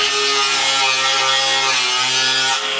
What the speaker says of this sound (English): So we'll take an angle grinder with a cutoff wheel.